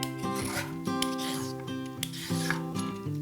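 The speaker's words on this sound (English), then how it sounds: "First, I'm going to peel and grate my carrots." Carrots are rubbed against the largest holes of a box grater in quick back-and-forth strokes, a close, soft rasping scrape repeating roughly every half second with no talk.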